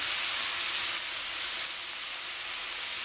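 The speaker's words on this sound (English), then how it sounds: "You want to brown this minced meat." Minced meat browns in a hot pan for a Trinidad meat pie filling, giving a steady, even sizzle with a bright hiss that stays loud and constant throughout, with no talking.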